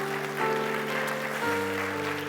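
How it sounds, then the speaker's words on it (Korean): Church congregation clapping together to welcome newly registered members during a worship service, a steady, even wash of applause filling the room, with sustained organ or keyboard tones held underneath. "우리 한번 환영의 박수 한번 해드릴까요?"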